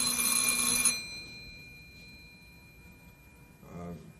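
A telephone, a banana phone, rings with a bright trilling bell for about a second, then goes quiet before a short second ring starts on a Sesame Street set.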